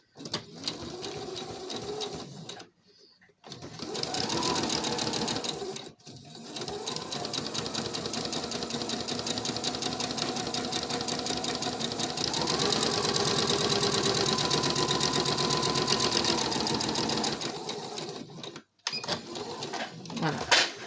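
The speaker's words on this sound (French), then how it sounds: "On va prendre et on va faire le point droit, en machine, normal," Domestic sewing machine running a straight stitch along a fabric face mask, long steady mechanical bursts close by with short pauses between runs.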